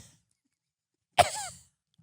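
A voice imitates a small, forced cough, one short burst followed by a brief rasping tail, heard clearly in an otherwise quiet moment.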